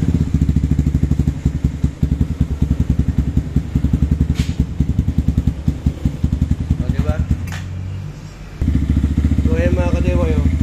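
A Rusi KRY 200 motorcycle engine idles close by with a rapid, even chugging pulse, while someone talks over it in the second half.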